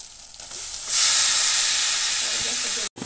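Taro fries with spices in a pan in a prawn dish, heard as a soft start that swells into a loud, steady hissing sizzle, followed by a brief cut and a return near the end.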